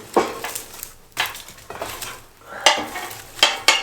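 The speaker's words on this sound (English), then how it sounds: "I gotta load this stove up right to the top before I go." Wood is loaded into a small stove inside a hot tent in brutal cold, giving a run of sharp knocks and clatters as logs hit the metal firebox, spaced irregularly and close by, with no talking.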